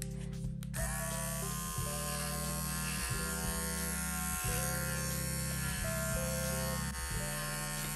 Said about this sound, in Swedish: Så då tar jag min lilla klippmaskin och tar och rakar mellan trampdynorna.